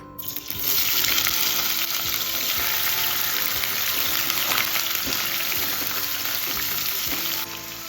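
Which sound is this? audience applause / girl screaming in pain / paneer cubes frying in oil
paneer cubes frying in oil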